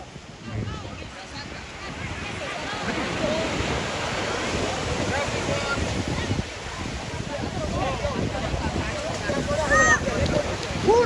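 Ocean surf at a family beach outing, a continuous broad roar of breaking waves with wind buffeting the microphone, getting slightly louder over time, with occasional voices faint in the mix.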